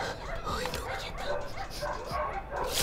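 Dogs at 3 a.m. give short barks, yips and whimpers scattered through the moment, close and fairly loud, mixed with people talking anxiously.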